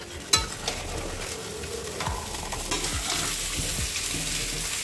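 A large batch of mutton cooking in a pan, a continuous loud sizzle with a utensil knocking and scraping as the meat is stirred, one sharp clank near the start.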